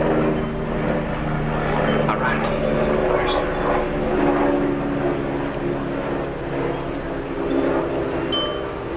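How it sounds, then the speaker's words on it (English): An airplane passes overhead outdoors, its broad steady rumble sustained in the distance while someone talks over it. "there's a plane"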